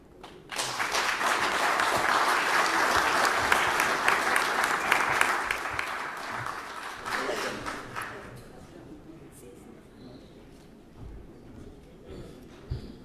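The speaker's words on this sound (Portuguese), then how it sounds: "Eu peço mais uma salva de palmas para o Dr." An audience applauds after a speech on Angola's public budget and debt, a loud, dense burst of clapping that holds for several seconds, then thins out and fades into quieter room noise.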